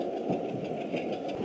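A train idles at Tantibondho railway station, a steady low engine rumble with a faint rhythmic knock, continuous and fairly close.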